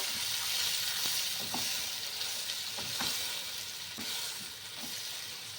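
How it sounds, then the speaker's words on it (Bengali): Tomato puree frying in a pan with ginger for a potato and pea curry, a steady close sizzle with occasional stirring scrapes and soft clicks. "ওই যে টমেটোর পিউরিটা করেছি সেটা দিয়ে দিচ্ছি। এটাকে একটুখানি কষিয়ে নেব।"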